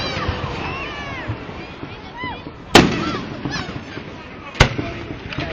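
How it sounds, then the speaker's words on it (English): Fourth of July fireworks in West Allis, Wisconsin crackle and whistle at a distance, with two sharp, loud bangs standing out, while people talk nearby. "I'm just trying to follow our fireworks."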